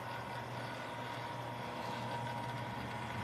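Steady, even engine drone from a DCC model train locomotive, a Santa Fe diesel on a home layout, holding at constant volume with a low hum throughout and no talking.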